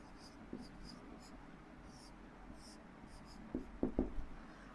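Pen scratches out a math solution on paper in short, faint strokes, followed by a few louder taps near the end, all quiet and close.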